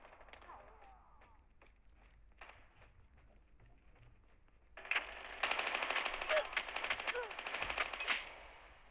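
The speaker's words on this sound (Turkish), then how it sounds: "Bana kim sıktı lan?" Automatic gunfire from the mobile shooter game Call of Duty Mobile. Faint scattered clicks and shots are followed by a sustained, loud burst of rapid fire that lasts about three seconds.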